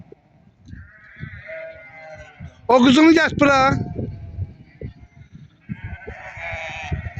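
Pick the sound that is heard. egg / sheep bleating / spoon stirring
sheep bleating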